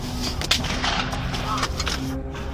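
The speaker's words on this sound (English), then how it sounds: "More shots being fired right now." Gunshots during a mass shooting, a few hard bangs heard at a distance through a heavy, constant rumbling background, with no voices.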